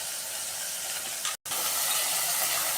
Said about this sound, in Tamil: ஸோ இப்போ வந்து பார்த்திங்கன்னா வெண்டைக்காய் போட்டு நல்லா வதக்கிக்கலாம்